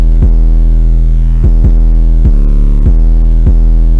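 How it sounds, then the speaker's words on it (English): A heavily processed 808 bass run through S-Tilt V2 effects in an FL Studio trap beat drones loud and distorted, with sharp repeated hits re-triggering it at an uneven rhythm and nothing else audible. "here's what the 808 sounds like. And with the effects."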